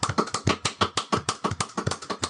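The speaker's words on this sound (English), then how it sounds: "Can I get a round of applause?" A small group claps in quick, uneven bursts for a Hall of Fame induction on a morning podcast, sharp close-up hand claps with no speech.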